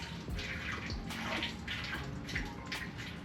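Vinegar solution at 30% strength poured into a Hayabusa motorcycle fuel tank, a steady splashing, gurgling stream filling the metal tank with broad wet noise throughout and no talking.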